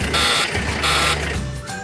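A door-open warning buzzer in a 1982 Volvo 240 GL6, a steady electronic tone pulsing in short bursts at an even rhythm, moderately loud against a quiet background.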